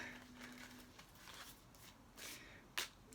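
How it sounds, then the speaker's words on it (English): Tarot cards being shuffled by hand, a soft papery riffling and rustling in faint intermittent bursts, with a sharper card snap near the end. "I'm shuffling my cards"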